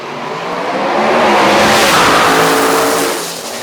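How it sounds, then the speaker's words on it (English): A drag race car at the Lights Out 9 meet has its throttle blipped, giving a loud, close engine roar that swells, holds for a few seconds, then eases off, with no voices over it. "You heard him blip the throttle out there just to get the car to settle down"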